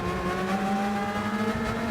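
A race car engine revs steadily and close up while the driver short-shifts to save fuel. The engine holds a sustained, loud, even drone with no breaks and no talking.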